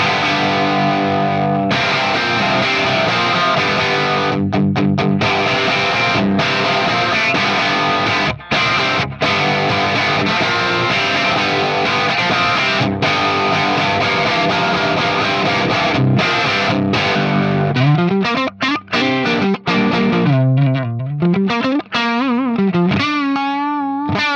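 A heavily distorted electric guitar through a Marshall 50-watt Plexi-style amp model plays loud, crunchy chords and riffs for a long stretch, ending with bending, wavering notes. No voices.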